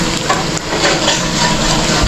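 Fresh anchovies fry in hot oil with a loud, dense sizzle and crackle that runs continuously, close up, along with faint stirring and scraping sounds.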